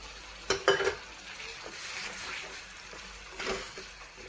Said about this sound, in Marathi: आता आपण पालकची पेस्ट केलेली टाकून घेऊ.